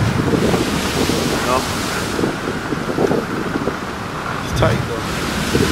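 Ocean surf rolling onto the shore where casino cruise boats once ran, with steady wind buffeting the microphone, heard under someone talking casually throughout.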